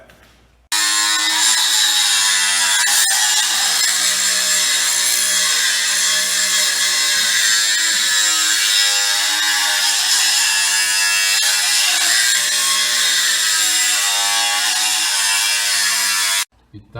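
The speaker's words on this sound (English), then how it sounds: "now you grind it off and smooth it up, and do the other ones" A grinder smooths welds on an old jailhouse steel door in Jefferson, SC, giving a loud, continuous high-pitched whine and rasp that starts abruptly, holds steady for about sixteen seconds, then cuts off.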